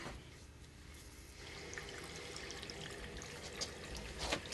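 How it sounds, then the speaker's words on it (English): Water runs at a faucet as the supply is turned back on after a reverse-osmosis filter change, a quiet, steady trickling flow with a few brighter splashes near the end, no voices. "We're going to turn the water back on."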